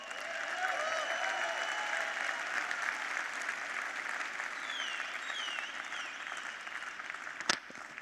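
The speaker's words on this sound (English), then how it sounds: "So, another round of applause for him." Applause from a large audience at a business convention, a broad, even roar of clapping held steady at a moderate distance, with a single sharp knock near the end.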